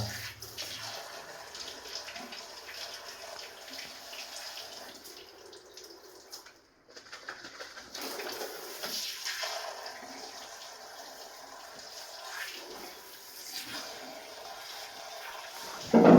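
Running water washes an RO water purifier filter in a steady, hissing gush that continues for the whole stretch, broken by a brief pause partway, close and without speech.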